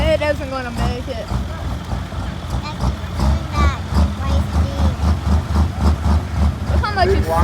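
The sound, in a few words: pulling tractor engine idling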